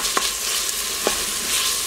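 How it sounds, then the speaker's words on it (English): Tomato paste, onions, garlic and olive oil are stirred together in an Instant Pot. A spoon scrapes the pot in two sharp strokes over a continuous close sizzle, with no talking. "We stir it together."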